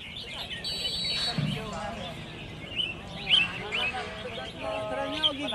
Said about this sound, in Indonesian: Ini pertandingan burung cantik ASEAN